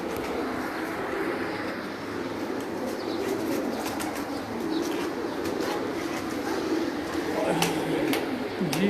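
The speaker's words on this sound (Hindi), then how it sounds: "भाई रफीउल्लाह के कबूतरों का आप शौक करें," Breeder pigeons kept on a rooftop coo steadily at close range, with occasional wing flaps and a low-level murmur of voices and background noise throughout.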